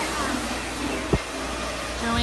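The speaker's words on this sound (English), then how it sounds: "Keep the dryer moving." Hair dryer blowing through short hair during a women's haircut styling, a continuous broadband airy roar with a brief knock midway, steady throughout.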